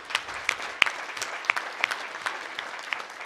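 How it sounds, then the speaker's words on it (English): Sparse applause at a school board of education meeting, a small audience clapping in loose, distinct claps, moderately close and fairly quiet, with no talk. "How about a round of applause for all of our wonderful students?"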